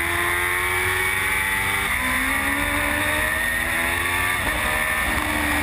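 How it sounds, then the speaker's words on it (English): A Formula Gulf 1000 race car at GP Circuit Dubai, its engine droning loudly and steadily with rising and falling pitch as it drives the track, heard continuously without commentary. "Sabin Took's car, the rear end crabbing slightly as Bintuk takes it quite easy just to ensure that everything's okay with the car"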